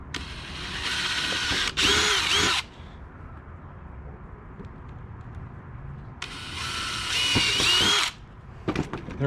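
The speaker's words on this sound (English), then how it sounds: "I'm going to drill a pilot hole." Two bursts of a high-pitched electric drill whirring as it drills a pilot hole, each about two seconds, separated by a quieter pause with faint handling noises.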